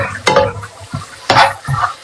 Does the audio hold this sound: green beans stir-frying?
yes